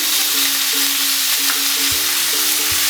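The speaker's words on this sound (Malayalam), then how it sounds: "ഇനി നമുക്കിത് നന്നായിട്ടൊന്ന് ഫുൾ ഫ്ലെയിമിൽ തന്നെ വെച്ചിട്ട് വേണം നമുക്ക് ഇതൊന്ന് വഴറ്റിയെടുക്കാൻ" Chicken pieces with lemon juice sautéing in a pan over full flame, making a loud, continuous close sizzle with a faint steady hum underneath.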